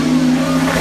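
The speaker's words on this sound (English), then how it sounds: "I think that was a car" A race car at the Goodwood Festival of Speed hillclimb roars past under hard acceleration, a loud, close, sustained engine drone with a steady pitch over a brief moment, a commentator's voice faintly mixed in.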